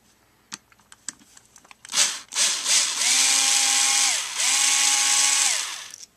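Electric screwdriver or drill whirring in steady bursts while screws come out of the carburetor cover on a two-stroke weed eater, preceded by a few light clicks and taps; loud and close, with no talk.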